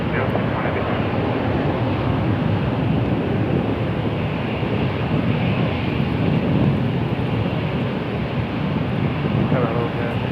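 Broadband jet roar from airliners at Toronto Pearson Airport, a steady, loud rumble lasting throughout with wind buffeting the microphone and no pauses.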